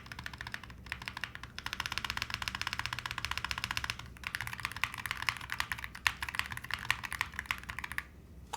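Fast continuous typing on a mechanical keyboard fitted with PBT keycaps, HE Gateron Orange 2.0 switches and a foam-damped FR4 plate, producing a quiet, muted clatter of keystrokes in close, steady bursts with brief pauses.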